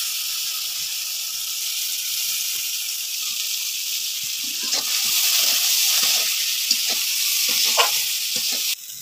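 Onion and garlic frying together in a pan while cooking a fish dish, a steady close sizzle with bright hiss that swells slightly midway, with no voices over it.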